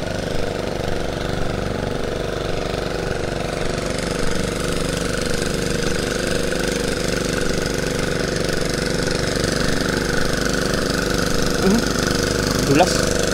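A hand tractor engine chugs steadily while plowing a field, a continuous close idling-to-working drone with a knocking rhythm, under occasional speech.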